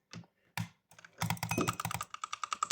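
Keys clack on a new mechanical keyboard: a few isolated presses with pauses, then a fast run of crisp, close keystrokes in quick succession, with no voices.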